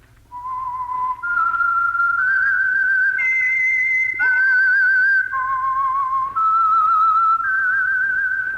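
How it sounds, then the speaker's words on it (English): A lone whistler performs the eerie theme tune of The Whistler, a radio mystery show sponsored by the Signal Oil Program. The clear, loud melody glides between sustained notes with a wavering bend midway, unaccompanied. "That whistle is your signal for the Signal Oil Program, The Whistler."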